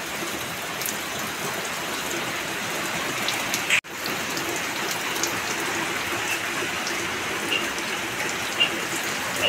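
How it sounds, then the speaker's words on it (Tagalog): Steady rain falls outdoors, with a dense, even patter that stays moderately loud throughout. A short dropout interrupts it midway, and no one speaks over it. "Abutan tayo ng ulan."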